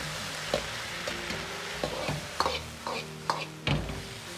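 Steamed-fish soy sauce splashed into a wok of stir-fried pork and cauliflower, a close sizzle with repeated metallic scraping and tapping of the spatula against the wok at an uneven pace, no talk.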